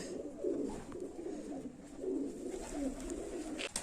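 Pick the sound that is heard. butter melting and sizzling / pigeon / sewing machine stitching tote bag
pigeon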